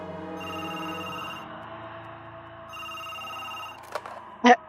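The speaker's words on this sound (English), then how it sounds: "The phone rings again." A telephone bell rings in repeated bursts with short pauses, a steady electronic trill, followed by a couple of brief clicks and a louder knock near the end.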